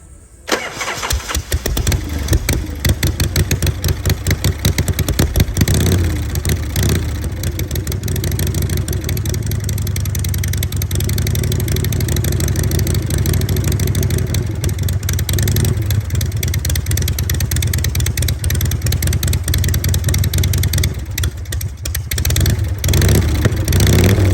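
A 1980 Harley-Davidson Shovelhead FXB Sturgis barn-find motorcycle with a freshly cleaned carburetor cranks and fires up, then runs loud and close with a steady throbbing idle and occasional revs throughout.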